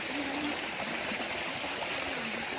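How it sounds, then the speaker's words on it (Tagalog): A gentle mountain stream flows in a rural countryside setting, a continuous soft rushing and trickling wash of water that stays steady throughout, with no talking. "the sound of gentle streams and the beauty of nature's trails"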